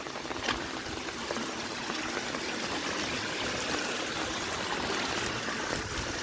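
Rainwater runs along a broken road during heavy rain, a steady, dense rushing flow that stays even and moderately loud throughout with no speech.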